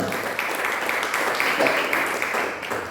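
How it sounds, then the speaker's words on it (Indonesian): Applause from a church congregation during a sermon, a steady, dense wash of clapping heard throughout at moderate loudness with no voices over it. "Tepuk tangan."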